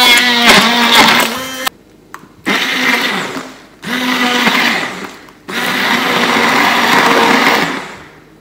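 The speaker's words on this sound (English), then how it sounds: "So I'm gonna use this stick blender and just blend it all together." Handheld stick blender whirring through frozen fruit in a home kitchen, running loud and close in four steady bursts separated by short pauses, with the pitch shifting slightly as the load changes.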